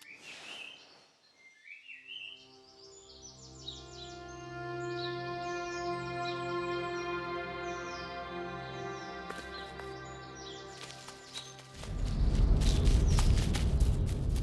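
Birds chirp and trill in The Last Campfire video game, bright repeated tweets over a sustained musical drone, ending in a louder noisy swell.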